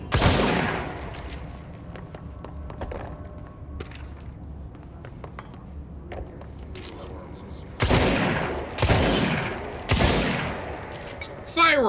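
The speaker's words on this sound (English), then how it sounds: "Fireworks!" Fireworks in the video game Control: several sharp, loud bursts cluster near the end, each with a brief crackling tail, following a quieter stretch of scattered small pops and faint background rumble.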